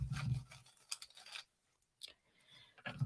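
Tarot or oracle cards being shuffled for a reading: quick riffling, scraping bursts up close, one at the start, another around a second in, and more near the end, separated by quiet pauses.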